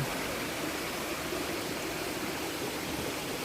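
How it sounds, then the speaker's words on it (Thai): Steady rushing of a mountain stream flowing out over rocks, a constant dense hiss with no pauses and no voices. "จะมีน้ำไหล น้ำไหลออกจากก้อนหินลูกหินนะ"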